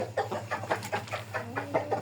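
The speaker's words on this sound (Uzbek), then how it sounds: "mana shu xoros toza Koreya." Korean-breed chickens cluck in a series of short, soft, irregular calls over a low steady hum, fairly quiet and close in a poultry yard.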